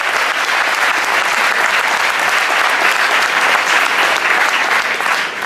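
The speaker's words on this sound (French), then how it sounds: "je vous demande encore une fois de les applaudir très fort." Loud, dense applause from a large crowd at a community tournament event in Paris, greeting the FCPJ steering committee, sustained and even from start to finish with no speech.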